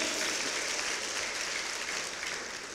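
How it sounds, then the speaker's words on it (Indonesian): Steady applause from a church congregation, a dense continuous patter of many hands clapping at once, fading slightly toward the end. "Tepuk tangan bagi Tuhan"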